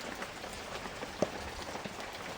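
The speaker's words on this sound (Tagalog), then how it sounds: "Kasi umuulan." Rain falling outside, a steady soft patter of drops on surfaces with one sharp tap partway through, fairly faint and continuous with no voices.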